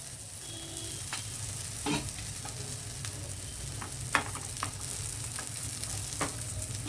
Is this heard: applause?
no